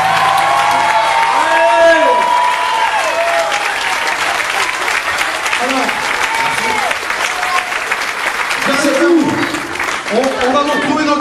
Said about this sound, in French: je vous demande également un tonnerre d'applaudissements pour ceux qui ont été très très bons ce soir également